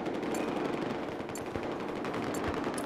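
Sustained enemy machine gun fire in Battlefield 4 during a conquest round on Operation Locker, a dense rattle of rapid shots running continuously under loud battle noise with a few sharper cracks.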